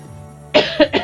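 A woman with a cold coughs close-up, one sharp cough followed by two quicker ones in a short burst after a quiet moment.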